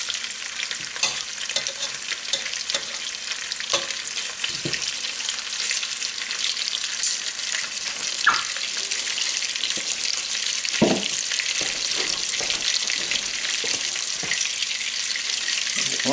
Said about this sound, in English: You just want to brown this a couple minutes on each side.